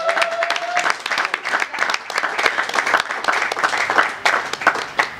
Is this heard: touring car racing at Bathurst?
no